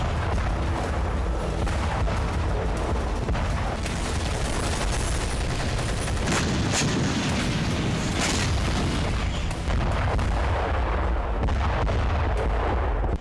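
Repeated booms and artillery fire from Russian strikes on Ukrainian cities and an airbase, a dense continuous rumble of blasts and gunfire, loud and sustained, with no speech.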